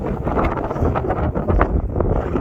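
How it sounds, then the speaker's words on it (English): Strong gusts buffet the microphone on a coastal walk in North Devon, producing a loud rumbling, fluttering roar that swells and dips without a break. "All of a sudden, we've hit a bit of wind."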